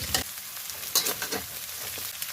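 Pork and egg sizzle and crackle in a hot pan for egg fried rice, with scraping stir-fry strokes at irregular intervals, close and fairly quiet.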